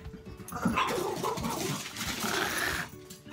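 A dog growls and grumbles in a low, continuous, rumbling stretch while a cat and dog chase each other indoors, moderately close, with no talk.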